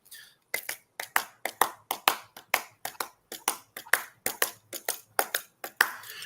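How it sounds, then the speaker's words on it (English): Hands clap a blues shuffle rhythm, about two dozen sharp, close claps in an uneven swung pattern, standing out alone against near silence. "That is a very common blues shuffle."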